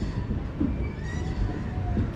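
Vivek Express train pulling out of Kanyakumari railway station, a steady low rumble of rolling wagons with faint squealing tones from the wheels, continuous and moderately loud throughout with no talk.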